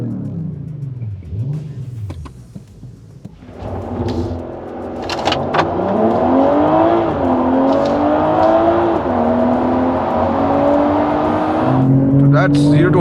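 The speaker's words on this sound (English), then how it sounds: "Oh, it just accelerates out of the corners like a rocket." A sports car in sport mode launches hard from 0 to 100 km/h, its engine rising from a low idle into a loud, climbing roar through several gear shifts, heard close up.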